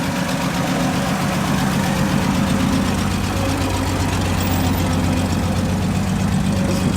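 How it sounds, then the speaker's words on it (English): A vintage Scammell Bedford lorry engine runs close by, a loud, steady, throbbing diesel rumble with constant low chugging throughout. "this is a Scammell Bedford apparently, I've not heard of it before, it sounds magnificent"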